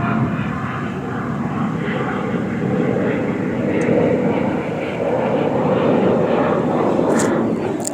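A commercial airliner passes overhead, its engine roar a steady, loud, unbroken drone for about eight seconds with no talking.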